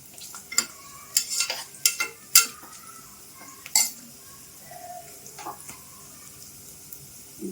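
Onions fry in a pan with garam masala and are stirred, producing a low sizzle broken by sharp, irregular clinks and scrapes of a utensil against the pan.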